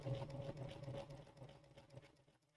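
A Bernina sewing machine fitted with a #86 ruffler foot pleats fabric with each stitch, giving a close, steady motor whir with a quick rhythmic ticking that tapers off at the end; no one speaks.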